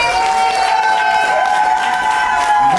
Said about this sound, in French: Est-ce qu'on peut accompagner par les acclamations?